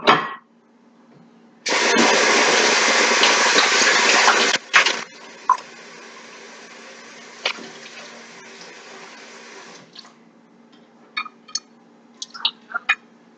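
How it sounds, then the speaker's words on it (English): Eggs rinsed under a running kitchen tap give a steady broad rush of water for about three seconds, followed by a quieter trickle and scattered small knocks and clatters of shells and a bowl. "I'm just going to take these and rinse them off"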